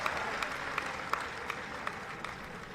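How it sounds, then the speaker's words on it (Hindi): Steady applause from an audience at an event honouring an IIFA award winner, a dense wash of many hands clapping, a few sharper claps standing out, heard at moderate distance throughout. "एक जोरदार ताली बजा दीजिए"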